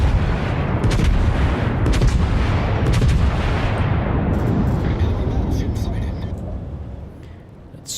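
Battleship guns of the USS Texas in a warship video game fire in a dense, continuous roar of heavy booms and rumbling blasts that slowly fades toward the end.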